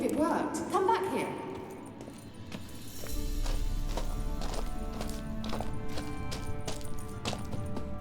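Kelpie, a horse in The Witcher 3, clops its hooves in a steady rhythm, and a high whinny rises near the start, set against in-game ambience and music.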